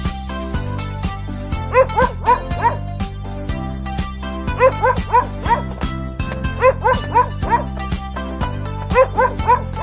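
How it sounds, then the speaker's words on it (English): Dog barking over an upbeat children's song about farm animals, short yapping barks in clusters of three or four, repeating at regular intervals, clear and prominent above the music. "Dog, dog."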